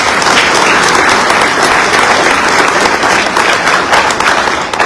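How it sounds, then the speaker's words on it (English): An audience at a Central Bank Utah economic outlook presentation gives a round of applause: dense, steady clapping from many hands, loud and close, sustained through the whole stretch without a break. "Let's give them a round of applause"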